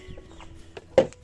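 A chicken on a farm gives a short, fairly loud cluck near the end, after a stretch of faint low background noise with a few soft sounds.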